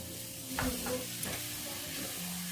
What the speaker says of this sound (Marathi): आता आपण गूळ घालून घ्यायचा आहे आणि गूळ वितळेपर्यंत आपण छान फिरवून घ्यायचं आहे